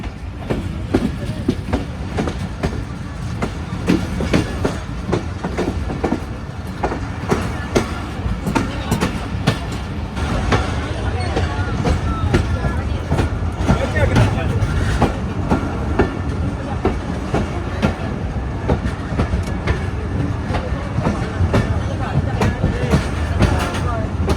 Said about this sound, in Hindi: फाइनली पत्तोकी रेलवे स्टेशन पर आकर रुक गई है ट्रेन